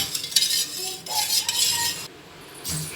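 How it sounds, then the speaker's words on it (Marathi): A spoon stirring lemon sherbet with a pinch of salt in a vessel, giving close, repeated scraping and light clinks of metal against the container with no voices. "आता हे सगळं आपण मिक्स करून घ्यायचे"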